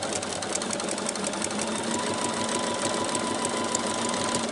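Sewing machine stitching fabric pieces for a festive advent calendar, a steady, continuous mechanical whir with rapid needle chatter running loud and close throughout, no voices.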